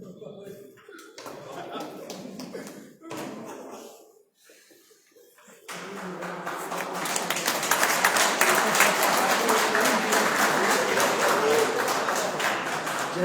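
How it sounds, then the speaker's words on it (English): A voice speaks over a quiet room with light chuckles, then audience clapping at a school batch's silver jubilee reunion swells into steady, full applause that carries on to the end. "They're clapping"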